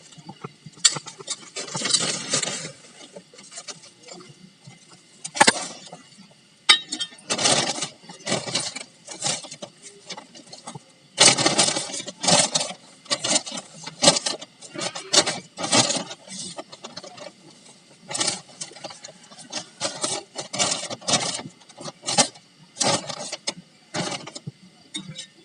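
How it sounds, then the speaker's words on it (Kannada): Soil poured from a grow bag into a pot while planting a jasmine shrub, a series of close, loud rustling and crumbling bursts, irregular pours with short pauses in between. "ಅದಕ್ಕೆ ನಾನು ಇದು ಇನ್ನೊಂದು ಗ್ರೋ ಬ್ಯಾಗಿಂದ ಮಣ್ಣು ಹಾಕ್ತಾ ಇದ್ದೆ"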